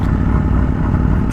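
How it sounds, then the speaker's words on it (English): Deep, steady exhaust rumble from a 2022 Aprilia Tuono V4 motorcycle, loud and close with a constant drone and no voices. "Jesus, listen to this thing. He's got a hell of an exhaust system on that bad boy."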